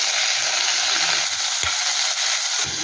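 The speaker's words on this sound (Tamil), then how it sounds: "நல்லா வெங்காயம், கொத்தமல்லி, கருவேப்பிலெல்லாம் போட்டு வதக்கலாங்க." Onion, coriander and curry leaves sautéing in a pan after mustard seeds are added, giving a loud, continuous close sizzle with occasional soft stirring thumps and no voices.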